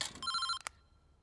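A telephone gives a short, bright electronic ring during a call in a comedy film scene. A single trilling burst lasts about a third of a second, followed by a couple of quick clicks, and then the sound fades into quiet.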